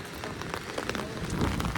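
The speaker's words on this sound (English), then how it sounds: "There's people running under this rain." Rain falls steadily on a city street at night in the Netherlands, a dense patter of drops hitting the pavement close by, fairly soft and continuous.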